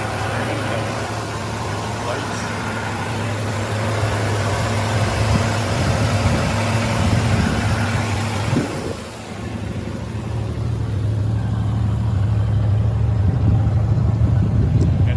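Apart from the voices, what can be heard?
muscle car running at idle, air compressor working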